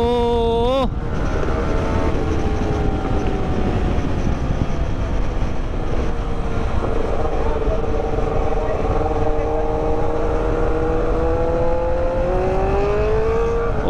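A Kawasaki ZX10R superbike roars loudly while racing, its engine note climbing and holding a sustained high whine close by, with a brief shift early on. Wind noise is mixed in.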